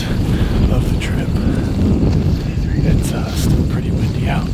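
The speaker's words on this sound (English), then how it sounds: "It's still pretty windy out." Steady wind buffets the microphone outdoors during an evening mule deer hunt in North Dakota, a loud continuous low rumble with gusty swells and no speech over it.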